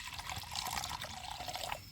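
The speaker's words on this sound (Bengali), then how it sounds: "আমি এই গরম একটু জল গরম বসিয়ে দিচ্ছি" Water pours into a small pan (kadai) set on to heat while making pitha, a steady close trickle and splash running throughout without talk.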